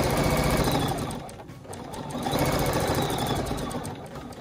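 Quilting sewing machine stitching in the ditch along fabric seams, a loud, steady rapid mechanical whir and clatter that dips briefly mid-way, close up with no talk.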